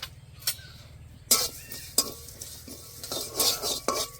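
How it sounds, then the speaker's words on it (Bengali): Fennel seeds and poppy seeds frying together in a pan with a soft sizzle under repeated stirring, as a metal spoon scrapes and clinks against the pan in a few sharp, close strokes. "আর দিয়ে দেব 1 চামচ পোস্ত। সব একসাথে ভেজে নেব।"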